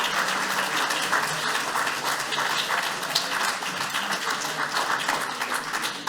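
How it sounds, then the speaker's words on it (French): Sustained applause from a conference audience at a round-table meeting, dense, loud and even clapping that fills the whole stretch without pause. "merci pour vos applaudissements"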